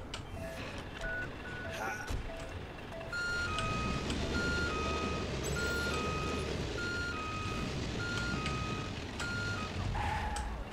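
A truck in Watch Dogs Legion reverses with a steady series of evenly spaced high electronic beeps over a low idling engine and traffic rumble, with a voice talking intermittently.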